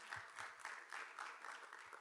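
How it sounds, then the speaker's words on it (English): Applause from a church meeting audience, a steady wash of many hands clapping at moderate volume for about two seconds, fairly distant and even. "Thank you, and nice round of applause."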